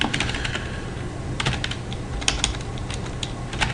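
Clicky keystrokes on a computer keyboard while entering text into a software form, a steady run of light taps with a few sharper hits, close and alone with no voices.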